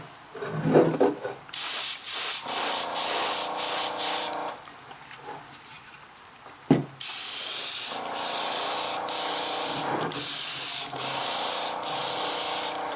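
Airbrush spraying paint onto a model body, close steady hissing bursts broken by short pauses, louder and longer after a brief quiet stretch with a knock.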